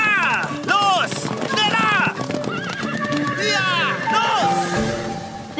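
Several horses whinny and neigh loudly in overlapping calls while hooves clatter underneath, close and busy with commotion.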